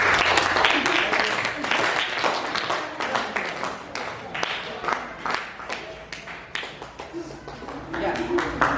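A ninth-grade science class claps together in an uneven round of applause that swells and fades in bursts, with voices mixed in among the claps.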